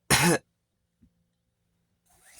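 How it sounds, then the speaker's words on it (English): One short, soft cough or throat-clear, followed by near silence and a faint rustle at the end. "have to cough very gently because if I cough like a normal person, then I will bleed"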